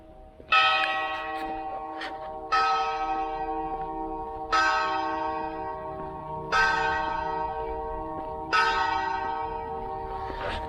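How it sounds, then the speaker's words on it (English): Church bells ringing at five o'clock in the Azores, five evenly spaced loud tolls about two seconds apart, each with a long ringing decay, heard alone. "Perfect timing, the bells."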